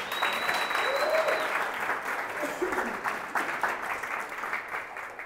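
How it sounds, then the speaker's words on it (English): A CreativeMornings audience bursts into sustained applause, a dense wash of many hands clapping steadily for about five seconds, loud and fairly close, with a faint whistle near the start and the clapping thinning slightly toward the end. "a round of applause for the people who put this together one more time"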